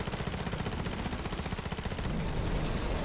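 Sustained rapid automatic gunfire in a zombies shooter game, loud and continuous with dense repeating shots throughout.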